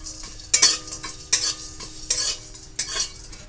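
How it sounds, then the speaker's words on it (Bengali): Whole biryani spices (black pepper, cinnamon, cloves, cardamom and caraway) being lightly fried and stirred in a pan, with four distinct bursts of scraping and clinking from a spoon over a soft, steady sizzle. "টোটাল এই সমস্ত মশলাকে একসাথে হালকা করে ভেজে শিলে বেটে নেব।"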